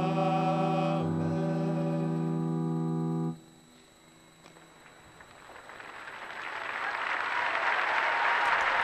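A crowd of 30,000 in St Peter's Square applauds after a papal general audience: a sustained organ chord first, then the applause swells from faint to loud, distant and wide.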